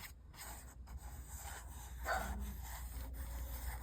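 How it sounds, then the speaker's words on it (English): A dog barks repeatedly outdoors while a neighbour's car pulls out of a driveway, the barks moderately loud over a steady background hum. "Ignore the dog."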